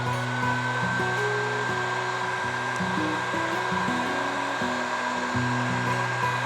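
A heat gun blows hot air at a middle setting while working on car LED lighting, a loud steady whooshing roar with a whining motor tone that shifts in pitch, heard close and alone.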